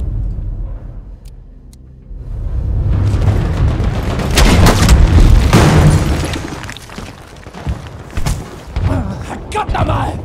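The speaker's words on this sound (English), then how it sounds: "They are playing artillery already." Artillery explosions in the video game Battlefield V: after a quieter opening, heavy booming blasts and rumbling swell and pile up, followed by sharper scattered impacts, with a voice talking over parts of the barrage.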